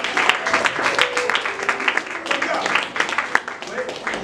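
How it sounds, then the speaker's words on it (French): A church congregation applauding, a dense, steady wash of many hands clapping at once with voices talking and calling over it throughout. "Est-ce qu'on peut acclamer pour lui?"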